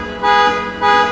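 Two short blasts of a 2010 Honda Civic FD1 horn, triggered from a steering-wheel button, a brief honk followed by another moments later, loud and close.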